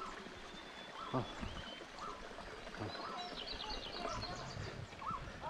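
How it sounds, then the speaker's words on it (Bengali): Spring water trickles and flows steadily close by on a mountain trail in Nepal's Annapurna region, with birds chirping intermittently in the background. "এই যে দেখতে পাচ্ছেন, এগুলো ঝর্ণার পানি"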